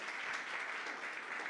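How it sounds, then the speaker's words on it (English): Applause from a congregation during a Sunday church service at the Peace Embassy, a steady dense clapping that fills the whole short stretch, fairly even in level with no voices over it. "Let's give him up another round of applause."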